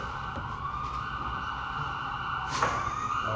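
A steady wailing siren tone holds in the background, fairly faint and distant, with a brief louder swell near the end.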